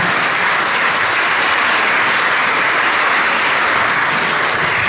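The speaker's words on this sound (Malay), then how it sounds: "Jadi bagi tepukan gemuruh kepada rakan ibu bapa." Loud, dense applause from a large crowd at a school awards ceremony, honouring the parents, sustained evenly for the full length with no voices over it.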